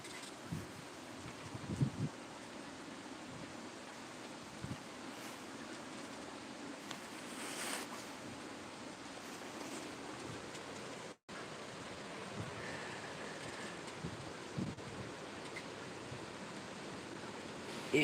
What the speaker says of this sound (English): You hear the wind? It sounds like ocean waves.